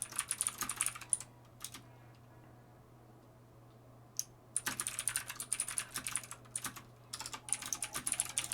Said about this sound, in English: there's different keyboard sounds